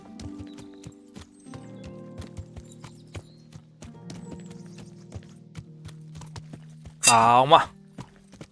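A horse's hooves clip-clop steadily on ground in the medieval video game Kingdom Come Deliverance, ending in a loud, close neigh, with a voice speaking briefly.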